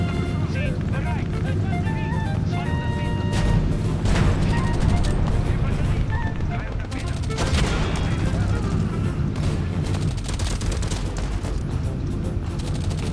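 Gunfire from enemy players in a historical tank combat game, dense bursts of shots and booms over rumbling battle noise, fairly loud throughout, with someone talking over it.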